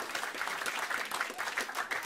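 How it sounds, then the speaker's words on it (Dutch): Applause from an audience greeting the winners at a Dutch stage show, steady and fairly dense throughout with no break, moderately loud and slightly distant. "Applaus nog even."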